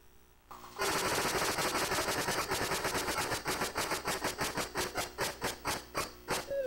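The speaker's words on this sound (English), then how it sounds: "I will go ahead and give the wheel the first spin" Wheel of Fortune video game wheel spinning: a dense rapid run of clicks that gradually slows, the ticks spreading out and softening as the wheel winds down, with no talk.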